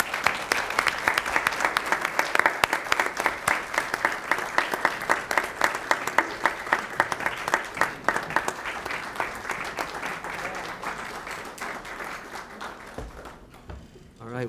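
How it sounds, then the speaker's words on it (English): Sustained round of applause from the audience at a county commissioners meeting, dense steady clapping that carries for most of the stretch before tapering off near the end. "we join in giving Ms. Virginia Baker a well-deserved round of applause."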